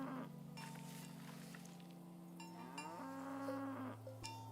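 Cattle lowing in the video game Season: A Letter To The Future, a few drawn-out moos over a quiet farm backdrop with faint bell clanks, moderately close and without any talking.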